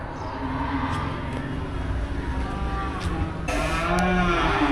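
Cattle, including Jersey cows and buffaloes, at the Melapalayam cattle market give a few low, drawn-out moos over a busy background rumble of market and engine noise, with the loudest call near the end.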